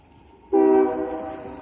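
A CSX train horn blares suddenly in a loud sustained chord from a distance, ringing out steadily after a brief quiet rumble.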